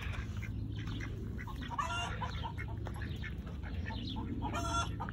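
Soft clucking from chickens, faint and scattered over a steady background hum, with no voices.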